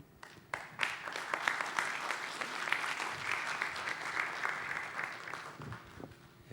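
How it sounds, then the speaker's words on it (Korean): Audience applause fills a 2012 Korean immigrant church theology symposium hall, a dense burst of many hands clapping that swells, holds steadily and tapers off after a presentation. "박수 한 번 더 해주시기 바랍니다"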